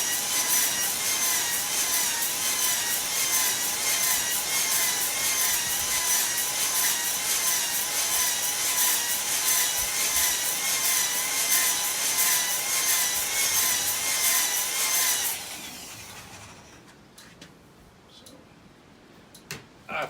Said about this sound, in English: About as much as I can slow down that drill motor and have it work effectively.